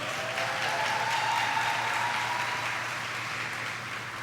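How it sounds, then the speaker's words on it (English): Sustained applause from a large audience at a 2019 university graduation ceremony, a steady dense roar of clapping that holds for several seconds and tapers slightly. "Give them all a round of applause."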